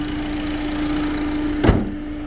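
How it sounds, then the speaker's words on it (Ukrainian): Constant whooshing hum of the climate control fan in a 2012 Renault Scenic with automatic transmission, close and steady, with a brief thump near the end. "Шумить наш вентилятор на кліматі"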